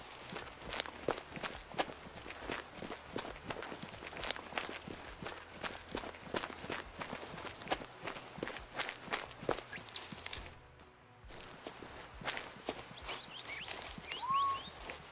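Player character running in a hunting video game, rapid rhythmic footsteps thudding close and steady, pausing briefly before resuming.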